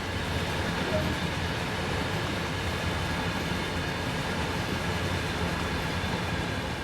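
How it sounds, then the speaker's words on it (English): A long freight train passes in Train Sim World 2, a CSX coal train setting: a steady, even rumble with wheel noise rolling on without a gap, at moderate loudness. "So now that that train has passed us"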